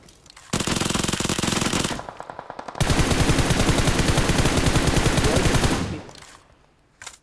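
Machine gun fire in PUBG Mobile rips out in two loud, close, sustained automatic bursts: a short one, then a brief pause, then a longer rattling stream that stops abruptly.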